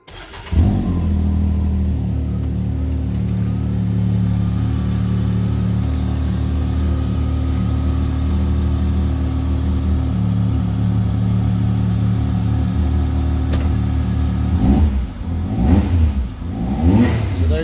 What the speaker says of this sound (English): So there's your stock exhaust.